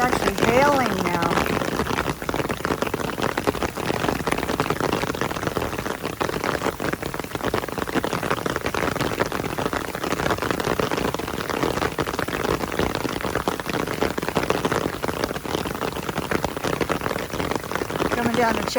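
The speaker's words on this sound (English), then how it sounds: "It's actually hailing now." Hail from a passing thunderstorm on the Pacific Crest Trail pelts the ground and gear in a dense, steady patter, close and continuous throughout.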